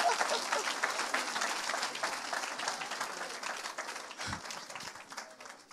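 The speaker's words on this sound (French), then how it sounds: "On acclame Jésus" A church congregation in Evry applauds in sustained, dense clapping that fills the space, steady and loud before tapering slightly, with faint voices mixed in beneath the crowd.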